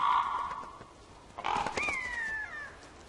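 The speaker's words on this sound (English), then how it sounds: "In a nearby clearing, ravens benefit from the death of one of the pregnant horses." Ravens give harsh, hoarse calls over a dead pregnant horse in a Siberian forest clearing. A few caws, one a drawn-out croak, sound at moderate distance against quiet surroundings.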